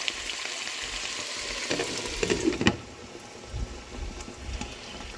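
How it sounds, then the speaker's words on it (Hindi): Potato pieces sizzle and crackle steadily in hot oil in a karahi, with a few louder spattering pops partway through and softer bubbling at the end. "जब तक फ्राई करना है कि इनका कलर हल्का हल्का चेंज हो जाए और आलू हाफ कुक हो जाए।"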